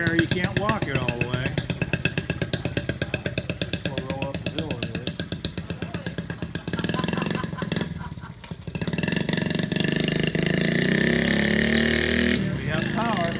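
Small 1970 Honda Z50 K1 mini trail bike engine running with a rapid, buzzy put-put pulse, then revving up and holding a higher drone, close by while people talk over it.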